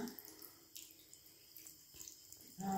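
A water tap runs for face washing at a sink, a soft, steady faint stream with small splashes, louder toward the end.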